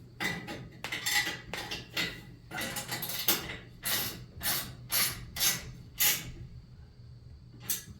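Wrenches tighten parts during the restoration of a 1947 Crippen mill, producing irregular bursts of nearby metallic clanks, scrapes and clinks with short pauses between them.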